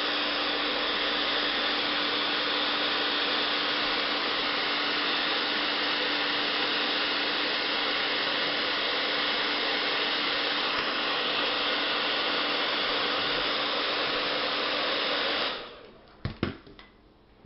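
A hot air blower roars steadily and loudly for about fifteen seconds, softening the plastic hull of a 12-gauge shotgun shell, then cuts off, followed by a few brief handling knocks.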